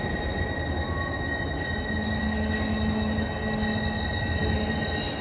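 A freight train with sticking brake shoes at East Deerfield Yard: rumbling rail noise with a thin, sustained metallic squeal running over it, steady and close for several seconds.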